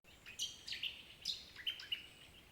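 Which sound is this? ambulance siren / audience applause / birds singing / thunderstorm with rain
birds singing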